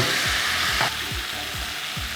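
Pork sizzles steadily in a hot pan over high heat with a bright, constant hiss, while a utensil scrapes the pan in a regular rhythm about five times.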